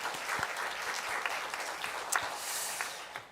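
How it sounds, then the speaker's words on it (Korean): Church congregation applauding the Immanuel choir at a Korean worship service, an even, moderately distant wash of clapping from a seated crowd, with a few sharper claps poking through, continuing throughout. "그래서 다시 한번 박수 부탁드리겠습니다."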